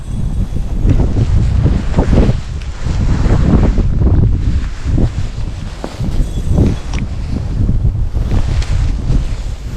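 Strong wind gusting across an open frozen lake during extreme-cold ice camping, a loud continuous roar with buffeting bursts hitting the microphone throughout.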